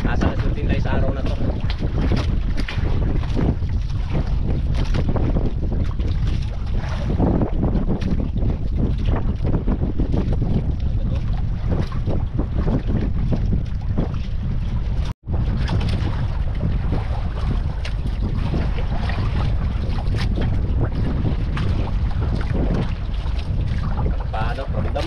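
A small fishing boat rides at sea, with continuous loud wind and water rush and boat noise filling the whole stretch while people talk over it.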